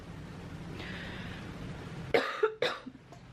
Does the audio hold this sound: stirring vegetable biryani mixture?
no